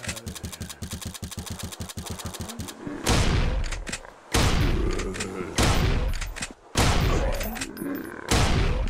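Shotgun blasts in the low-poly survival game Zombie Town, five loud booming shots spaced about a second and a half apart, following a rapid mechanical rattling burst at the start.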